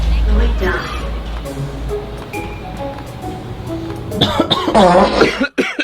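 A man coughs several times in a lift, close and loud, with throat-clearing; people talk over and around the coughs.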